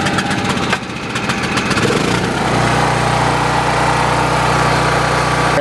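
Two Kipor IG1000P inverter generators, US version, run with the choke on after about five minutes, a loud close engine drone that steadies into an even, low humming idle after an uneven start.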